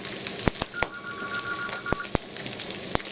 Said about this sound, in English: Phone goes off.